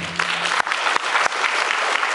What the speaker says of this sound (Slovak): Tak ja poprosím ešte jeden veľký potlesk pre všetkých